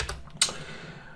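A few quick keystrokes clack on a computer keyboard while VBA code is being written, close and fairly soft, with one sharper tap in the middle.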